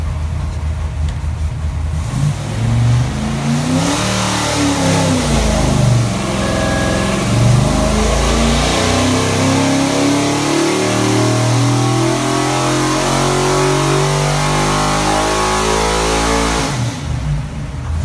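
A 408 stroker Ford with AFR 205 CNC cylinder heads runs on a dyno, sweeping from idle up to a loud sustained high-rpm roar and holding there before dropping back at the end.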